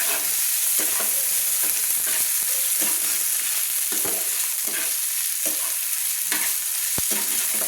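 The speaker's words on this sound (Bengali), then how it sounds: "দিয়ে ভালো করে একটু কষিয়ে নিচ্ছি, তেলের সঙ্গে ভালো করে একটু তেল পেঁয়াজের সঙ্গে আমি কষিয়ে নিচ্ছি" Ginger garlic paste and onions fry in hot oil with a loud, continuous close sizzle, broken by repeated scraping strokes of a spatula stirring the pan. No one speaks.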